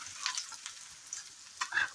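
Cabbage pakoras slowly frying in hot oil, a faint, soft sizzle with a few brief crackles and light bubbling bursts, heard alone for a moment.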